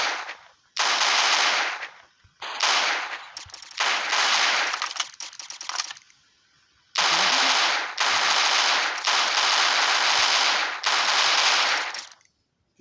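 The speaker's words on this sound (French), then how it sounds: "Je vois ces tirs de balles" Loud bursts of rapid automatic gunfire from a Garry's Mod-like video game, repeating in long sustained volleys separated by brief pauses.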